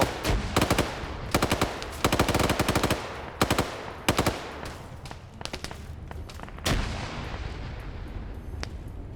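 Rapid bursts of automatic gunfire and heavier booming shots crackle through a multiplayer military shooter match set in the Falklands, with dense clusters of fire early on and sparser single reports later, close and loud without talk.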